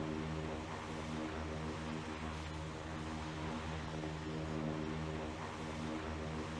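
Steady, loud engine roar with a continuous low drone from Concorde jet engines in the PTFS flight video game, holding evenly throughout with no voices.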